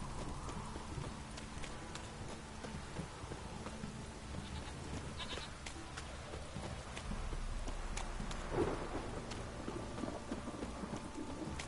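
Steady rain pours in The Witcher game, a constant close hiss with low rumbles underneath and a louder swell near the end.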